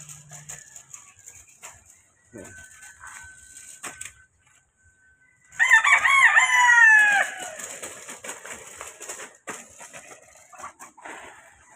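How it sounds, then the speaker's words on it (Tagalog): A fighting rooster crows loudly once, a long strained call, amid scattered clucks and faint background chatter from other fowl. "Ayan, mga manok na pansabong."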